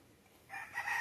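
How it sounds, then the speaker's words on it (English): A backyard rooster crows once, somewhat distant, its call rising in the final half second over a faint background. "Every video I got, I think, has a chicken crowing in it."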